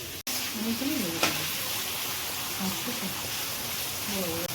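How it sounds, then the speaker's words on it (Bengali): Prawns fry in a pan with a close, even crackling sizzle running throughout, while a voice talks over it and a sharp click sounds near the start. "এখন চিংড়ি মাছগুলোকে ভাজা চলছে"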